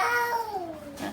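A young child imitates a cat's meow in one drawn-out, falling vocal call, close and clear with no other sound.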